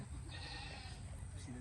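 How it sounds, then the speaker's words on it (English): A goat bleating among farm animals at a child's birthday visit, a faint wavering cry near the end of a short stretch of quiet outdoor background noise with people talking. "You hear the goat?"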